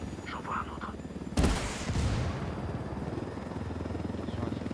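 Gunfire in the video game Ghost Recon Wildlands: a sudden loud broadband burst of shots, then a second blast a moment later, with a steady helicopter-like rotor drone underneath throughout.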